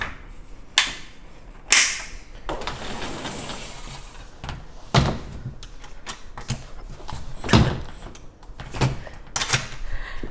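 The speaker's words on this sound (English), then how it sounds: "Let me just close this door first." A door being pulled shut indoors gives several sharp knocks and thuds spread across the moment, with quiet room tone between them.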